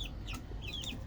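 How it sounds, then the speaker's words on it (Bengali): Chickens on a home balcony give a few quick, soft clucks and chirpy calls in close succession, faint and near, with no talking. "এই যে আমার মুরগিগুলো দেখছেন"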